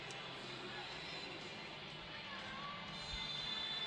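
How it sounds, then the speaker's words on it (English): Stadium crowd at a night women's soccer match in Seattle between the Reign and the Spirit, a steady broad murmur of many voices with a faint lift near the end. "Quality crowd. Great crowd."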